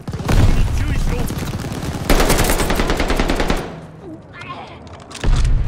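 Rapid automatic gunfire in Call of Duty: Vanguard, loud bursts of fast repeating shots with a pause, then another burst, mixed with game effects and occasional voices.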